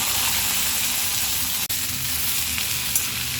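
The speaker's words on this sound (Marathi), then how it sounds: "गवार पहिले कधी पण ना तेलामध्ये परतून घ्यायचं" Cluster beans (gavar) sauté in hot oil in a kadai, giving a steady, close, unbroken sizzle with a brief dip partway through and no voices.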